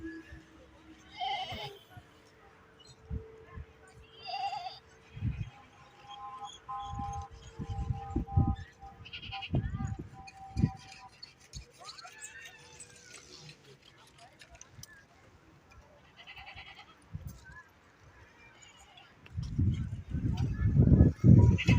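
Goats bleating at a wholesale livestock market in Lyari, scattered calls near and far with clatter and crowd noise, while someone talks over them throughout.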